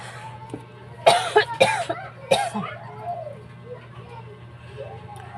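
A person with a cold and an itchy throat coughs several times in sharp bursts, close and loud, with throat clearing and a quiet steady hum underneath.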